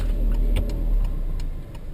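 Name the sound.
car braking hard from about 60 km/h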